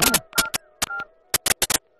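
A telephone is dialed in a Kannada film scene: about nine short, sharp keypad beeps come in quick clusters with brief gaps, close and clear against silence.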